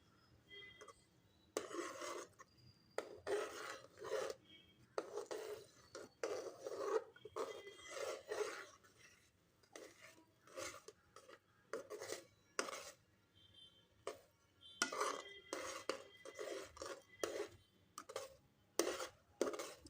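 A spoon scrapes and rubs a thick pera milk mixture out of a pan onto a ghee-greased bell-metal plate in short repeated strokes, close and fairly quiet, with brief pauses between bursts.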